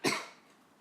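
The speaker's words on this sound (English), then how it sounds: "Cough moment." A single sharp cough up close, loud at first and fading quickly into quiet room tone.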